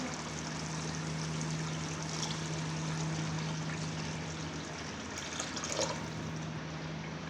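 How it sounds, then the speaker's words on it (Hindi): Water pours steadily into a cooking pot of nargisi koftas in a continuous, soft splashing stream, fairly quiet with a faint steady hum beneath it. "अब इसमें पानी ऐड करेंगे आधा लीटर।"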